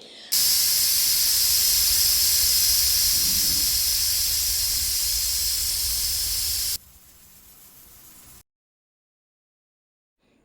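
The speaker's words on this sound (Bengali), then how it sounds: "2টো সিটি দিয়ে সাথে সাথে গ্যাস অফ করে প্রেশারের সিটিটাকে তুলে দিয়েছি" Loud, steady hiss of steam rushing out of a pressure cooker after its whistle is lifted, cooking jackfruit and potato curry. The hiss runs unbroken for several seconds, then drops to a quieter rush before cutting off.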